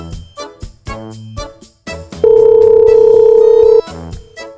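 An electronic phone call tone in a Sakura School Simulator game plays as a series of short repeated beeps, then one long sustained steady tone before cutting off, loud and alone.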